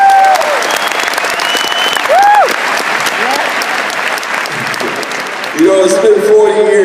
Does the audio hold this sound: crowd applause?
yes